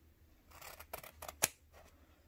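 Scissors snip along the seam of a homemade N95-style fabric mask: a handful of quiet, separate crisp cuts, one sharper and louder than the rest, close by with no talking.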